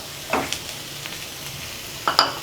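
Boiled, mashed medium potatoes go into a hot pan and are stirred, giving a soft sizzle with a few short scraping stirs close by.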